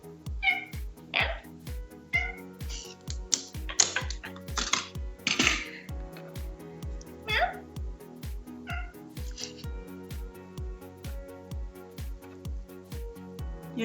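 A person imitates a cat with a run of short, repeated meows aimed at the cat, over a steady, rhythmic tapping or clicking that continues throughout.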